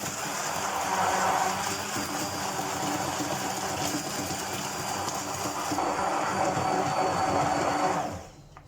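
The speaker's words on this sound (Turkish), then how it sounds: "mikserle güzelce eriyinceye kadar, köpük köpük oluncaya kadar karıştıralım." An electric hand mixer whisks eggs and sugar for a vanilla cake, a loud continuous whirring buzz that runs steadily and then cuts off near the end.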